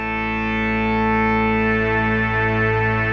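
Arturia PolyBrute synthesizer playing a sustained harsh chord with its vintage voice modeling switched off, a dense, buzzy tone with a slight swell, loud and alone.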